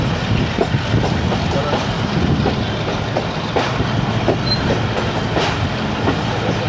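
A moving passenger train on the Karachi to Gujranwala main line, loud and close from on board, with wagons rattling and a rhythmic clickety-clack of wheels over rail joints over a steady rumble.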